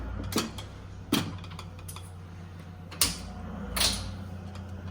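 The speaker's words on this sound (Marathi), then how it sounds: "कुकरला झाकण लावून" A lid is fitted onto a pressure cooker of washed toor dal with a little oil, giving a few separate metallic clicks and scrapes spaced over several seconds, close and alone.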